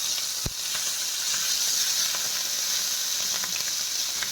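Schezwan sauce sautéing in a pan over a low gas flame while a leftover-roti snack is prepared, giving a steady, close sizzling hiss broken by a brief utensil tap.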